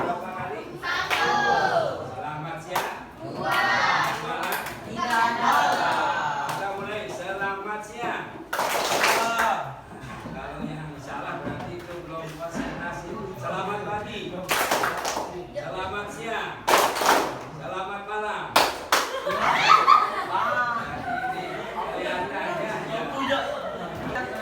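A classroom of children claps hands in short counted bursts on a teacher's cue, a few crisp group claps scattered between stretches of teacher talk and lively children's chatter.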